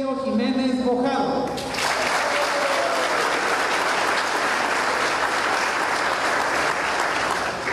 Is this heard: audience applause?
yes